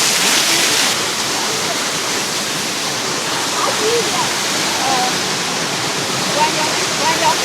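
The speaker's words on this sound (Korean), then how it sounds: "여기 뒤에 폭포가 흘러내리고 있어요." A waterfall pours down beside the Tiger Leaping Gorge trekking path in Yunnan, a loud, steady, close wash of rushing water, with faint voices now and then beneath it.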